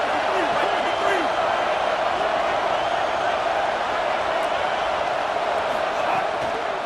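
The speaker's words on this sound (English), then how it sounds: "Decibels rising as the crowd gets behind this defense on third down" Loud, steady stadium crowd roar builds on third down in a college football video game featuring Iowa State, a dense continuous wall of cheering with faint commentary underneath.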